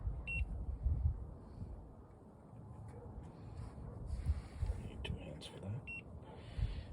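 A digital timer beeps a few times, sharp and short, while being reset beside a Japanese mess tin cooking rice on an Esbit solid-fuel stove, heard over steady outdoor rumble and background noise.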